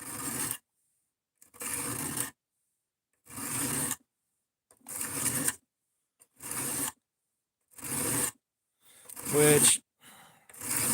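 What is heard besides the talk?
cheap Amazon knife being hand sharpened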